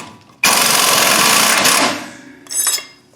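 A power tool, likely an impact wrench, rattles hard for about one and a half seconds while backing off a 15 mm pinch bolt nut on a 2002 Ford Ranger's ball joint, then gives a short second burst.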